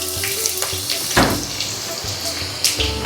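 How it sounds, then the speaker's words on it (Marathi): Finely chopped onion hits hot oil in a pan for street-style pav bhaji, a steady broadband sizzle with a sharper burst as it goes in, close and fairly loud, with faint background clatter. "पहिल्यांदा कांदा टाकून घेते।"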